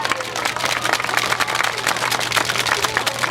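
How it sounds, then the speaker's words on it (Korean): An audience claps steadily at the 1390th Wednesday Demonstration on the Japanese military sexual slavery issue, as donations raised at a bazaar are handed to the grandmothers. The applause is dense and continuous, with a low steady hum beneath it. "여러분 큰 박수로"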